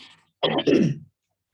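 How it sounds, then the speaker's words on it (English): A single close throat-clearing cough in two quick bursts, with a faint murmur just before and silence after. "I've just got a cough."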